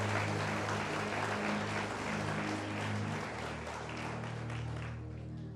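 Congregation applause at a church service on a Lord's Supper evening; a steady wash of clapping over a sustained low musical drone, fading gently near the end.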